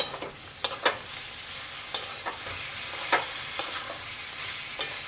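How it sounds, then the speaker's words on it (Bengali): Ginger garlic paste and spices sautéing in hot oil for a chicheenga, potato and prawn curry, a steady close sizzle broken by scattered scraping stirs of a spoon against the pan. "আদা রসুন বাটা এবারে এইগুলো সব খুব ভালোভাবে কিন্তু কষাতে হবে"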